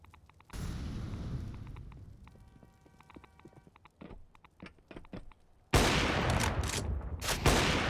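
Counter-Strike: Global Offensive match on the Train map with AWP rifles in play: scattered sharp gunshots and brief bursts, then a loud dense spell of firing near the end, with no voices.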